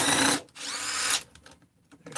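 A power tool whirs in two short bursts while removing crankcase case bolts on a 266 engine, loud and close, followed by quieter clicks and handling noises.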